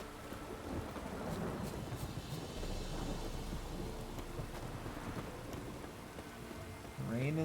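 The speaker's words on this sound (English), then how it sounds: "Rain and thunder everywhere." Rain and thunder in the video game Witcher 3, with a deep rolling thunder rumble under steady rain on surfaces, faintly heard, plus a short warbling game sound near the end.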